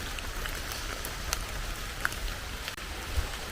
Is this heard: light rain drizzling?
yes